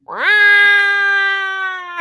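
A single drawn-out yowl from an unspayed breeding female cat, loud and close, rising at the start then holding a steady, harmonic wail for about two seconds before breaking off.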